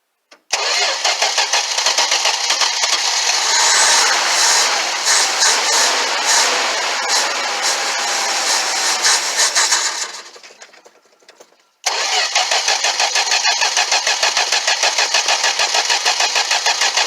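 A 1964 Plymouth Valiant engine, primed with gas poured into it, cranks and catches, running loudly and steadily close by for about nine seconds before it fades out and dies. After a short silence the starter cranks again in a fast, even rhythm.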